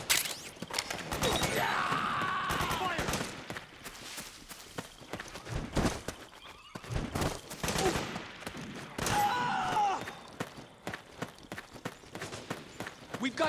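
Gunfire in Metal Gear Solid 4 during a firefight, with rapid bursts and sustained volleys crackling over running footsteps and shouted voices, loud and dense throughout.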